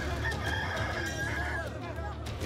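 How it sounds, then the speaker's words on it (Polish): Rooster crowing in a dramatized biblical scene, a strained cock-a-doodle-doo rising over a dense, steady background of voices and ambience that continues throughout. "Pieje kogut"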